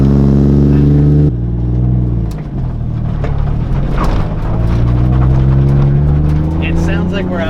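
Loud engine drone inside a stripped-out Nissan 240 drift car on the move, with harmonic rumble that shifts as the revs change and steady road noise throughout.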